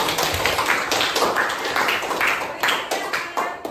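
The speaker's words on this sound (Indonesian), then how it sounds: "Tepuk tangan untuk semua kelompok" Classroom students clap for all the groups in a quick, uneven patter of many hands that fills the room, fairly close and continuous.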